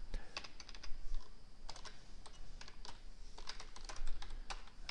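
Typing on a computer keyboard: quick irregular bursts of close, crisp key clicks with brief pauses between runs, fairly quiet and with no voice.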